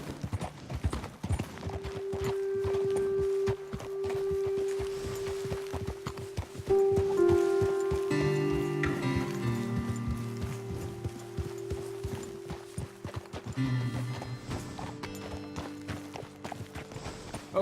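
Horses' hooves clip-clopping at a steady walking rhythm in the Red Dead Redemption 2 video game, close and clear, with soft game music and ambient tones underneath.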